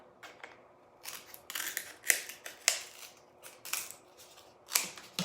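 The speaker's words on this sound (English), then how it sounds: "Ooh, can I cut this? Oh yeah, I can." Scissors snip through canvas fabric in a run of crisp, separate cuts with brief pauses between them, close and fairly quiet, no voices.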